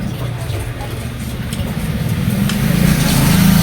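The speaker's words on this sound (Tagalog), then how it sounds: "Shout out sa motor na dumaan." A motorcycle passes on a nearby road, its engine drone building steadily louder toward the end over a low rumble.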